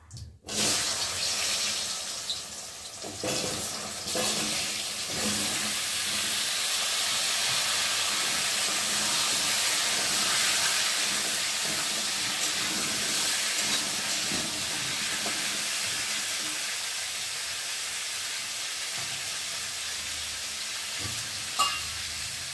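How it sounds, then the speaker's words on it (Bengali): Potatoes and taro fry in a pan with a steady, close sizzle and crackle that runs almost unbroken, with no voices. "এখন আমি আলু আর কচুটা দিয়ে ভেজে নেব"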